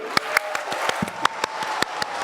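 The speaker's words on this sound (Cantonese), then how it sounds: "再俾掌聲你哋自己，呢次嘅掌聲呢，我哋就要榮歸上主，拍大聲啲。" A church women's group audience at a Cantonese gospel opera gathering claps loudly, sharp irregular hand claps ringing close and distinct in a hall, without talk.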